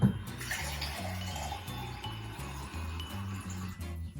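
Water runs steadily from a tap for a few seconds over a soft, rhythmic background tune, with faint clinks near the start.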